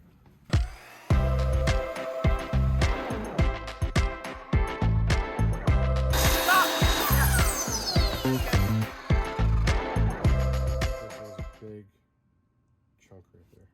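A new miter saw fitted with a work light cuts through a birch butcher block countertop, a loud, close whining burst of cutting amid rhythmic thumping and clatter before the sound drops away near the end.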